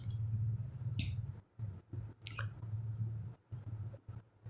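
Shredded beef being mixed into a thick lentil mixture for daleem, giving soft wet squishes and sticky clicks repeated at irregular intervals, close and quiet over a steady low hum.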